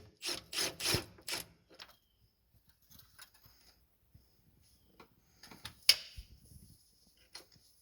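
A nut coming off the shift linkage of a 1994–2002 Dodge Ram Cummins with a 47RE/47RH transmission, worked with an 11/16 wrench: a cluster of close metallic scrapes and clicks at the start, then sparse, quieter taps and one sharp clink.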